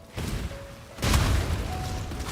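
Explosions burst in the action game Path of Exile during Righteous Fire Chieftain gameplay: a low rumbling boom hits about one second in and leaves a sustained roar, with fainter rumbling before it and no talking.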